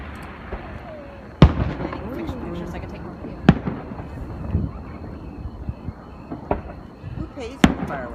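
Fourth of July fireworks explode outdoors in sharp, loud bangs spaced a few seconds apart, with crackling and a steady wind rumble, while people chat nearby throughout.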